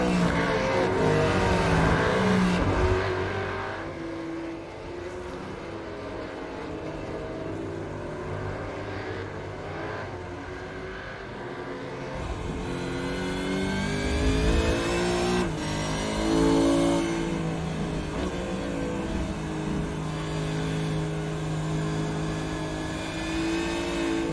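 Supercars race around Winton Motor Raceway in iRacing, their engines roaring and revving with rising and falling pitch as the cars pass close by. The sound is continuous and loud, with multiple cars overlapping.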